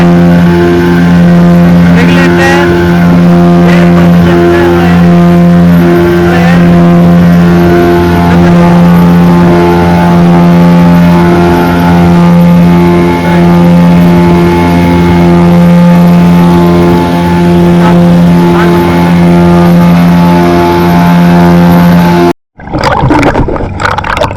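A Yamaha outboard boat engine roars loudly and steadily close by, a constant droning hum that cuts out abruptly near the end.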